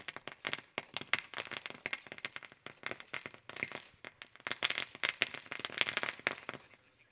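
Firecrackers crackle in rapid, irregular bursts during an honouring ceremony at a 40-plus cricket tournament match, a dense run of sharp pops and snaps with no talk over them.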